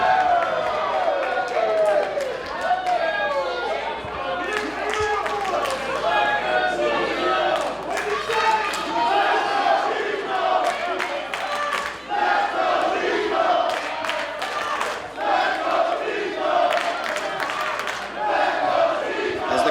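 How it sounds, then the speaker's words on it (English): A wrestling crowd in Norfolk roars and cheers for Jay Lethal before a heavyweight-division match, a dense, sustained wall of voices with shouts and scattered claps running loud and steady throughout. "Crowd in Norfolk very amped up for the appearance of Jay Lethal"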